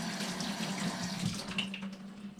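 Kitchen tap running steadily into a sink as scallion and thyme are rinsed under it, a close continuous splashing stream with no talk.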